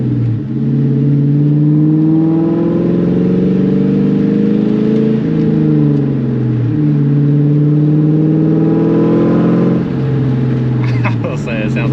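New Edge Mustang GT V8 with a catless X-pipe exhaust, revving loud and close, pitch sweeping up and dropping back in repeated pulls, with a brief burble between revs.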